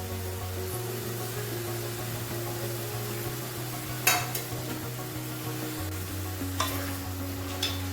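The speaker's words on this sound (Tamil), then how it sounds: "வதங்கட்டும், அப்புறமா பார்க்கலாம்" Long green chillies, slit lengthwise, sautéing in oil in a pan over a medium flame for brinjal rice, giving a steady sizzle and frying crackle with occasional stirring scrapes throughout, no voices.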